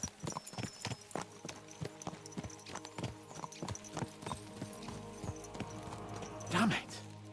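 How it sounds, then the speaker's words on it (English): Horses gallop in Kingdom Come Deliverance 2, their hooves pounding out a steady, fast clip-clop rhythm close by, with soft background music and a brief snort near the end. "Let's really spur these horses on, eh?"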